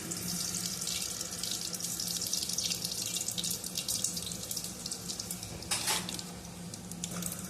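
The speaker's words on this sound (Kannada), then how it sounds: "ಒಗ್ಗರಣೆಗೆ ಸಾಸಿವೆ ಜೀರಿಗೆನ ಹಾಕ್ಕೊತೀನಿ." Mustard seeds and cumin sizzle in about three tablespoons of hot oil for a tempering while making vegetable sagu, a steady close hiss with sharper crackling pops around the middle and end.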